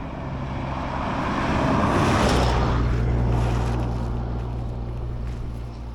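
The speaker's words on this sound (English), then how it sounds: "There's a truck coming too." A truck approaching along a desert road, a broad engine and tire rumble swelling to its loudest around the middle as it nears, then easing off while a steady low drone continues.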